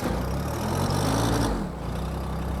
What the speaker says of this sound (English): Nice, quiet, nice engine.